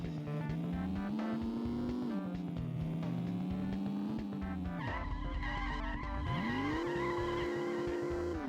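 Cars in the video game Road Trip Adventure skid and bump into each other, with a sustained engine drone, shifting tire-squeal tones and a brief scuffing impact, steady and fairly quiet, with no talking.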